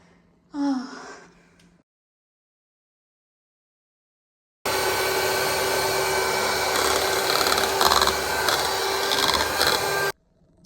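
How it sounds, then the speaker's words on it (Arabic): A grinder steadily whirs through a mix of sugar, oil and flour, blending it into a cream. The motor runs loud and continuous for several seconds after a brief breath and a stretch of silence. "غادي نعمر تقريبا 8 دقائق وانا كنطحن فيه حتى ولا بحال الكريم"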